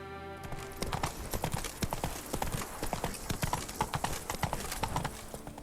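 Horse hooves clip-clop in a steady galloping rhythm as a rider travels on horseback in The Witcher video game, close and continuous under a soft music bed, with a faint whinny possible.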